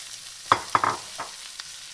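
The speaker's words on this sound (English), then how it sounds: "now I'm going to add my vegetables and let them essentially saute in that bacon grease" Vegetables being stirred in bacon grease in a pan for a frittata: a few sharp scrapes and clatters of a utensil against the pan over a soft, faint sizzle.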